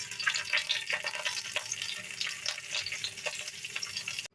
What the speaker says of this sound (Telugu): నెయ్యి వేడైన తర్వాత తాలింపు గింజలు వేగిన తర్వాత ఎండుమిర్చి